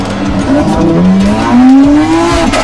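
A Lamborghini roadster with an 819-horsepower hybrid V12 engine roars loudly and close, its pitch rising steadily as it accelerates, with tire noise and a constant rush of wind throughout.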